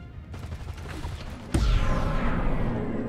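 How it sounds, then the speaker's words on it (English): An anti-gravity cannon fires in Destroy All Humans 2 Reprobed: a sudden loud blast with a sweeping whoosh that trails off slowly, after a stretch of quieter mechanical game sounds. "Anti-gravity cannon."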